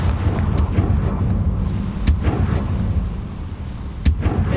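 Bombarda and Confringo spell blasts go off in the video game Hogwarts Legacy as three sharp booming impacts roughly two seconds apart, loud over a dense, rumbling ambient bed.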